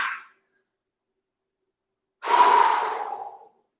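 Breath during a kundalini yoga session, a brief exhale fading out, then after a pause a long, audible breath lasting over a second, close and alone.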